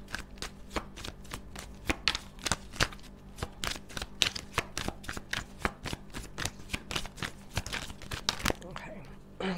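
A deck of tarot cards is shuffled by hand in quick, crisp riffles and slaps, close and steady, with a quiet voice talking underneath.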